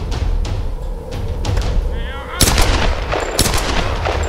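Sharp bursts of gunfire crack out repeatedly in the video game Tomb Raider, several loud shots and a few fainter ones, over a steady background rumble and a voice talking.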